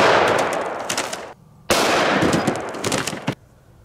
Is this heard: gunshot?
yes